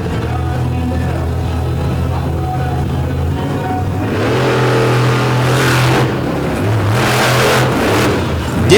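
Chevy Silverado race truck engine at an off-road event, a loud, close engine note that idles and then climbs into hard revving bursts, rising and falling in pitch with gaps between pulls.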